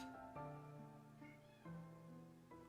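A house cat meows several times in quick succession indoors late at night, close and clear, with no talking over it.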